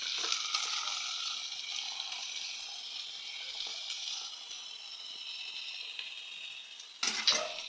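Octopus frying steadily in a very hot pan, a constant close hiss of sizzling oil that swells into a louder burst near the end.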